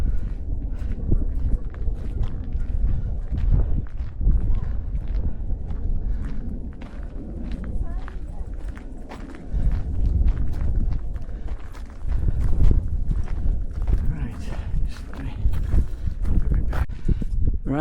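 Horses walking along a road near Rowarth, hooves clip-clopping in an irregular, continuous rhythm close by against wind rumble.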